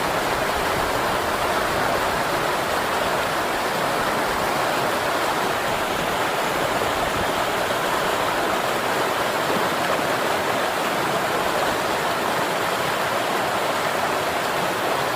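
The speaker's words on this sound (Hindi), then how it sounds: "मंदाकिनी नदी की कलकल बहती धारा" The Mandakini river at Gaurikund rushes past in a loud, steady roar of fast-flowing water, close by and unbroken throughout with no voices.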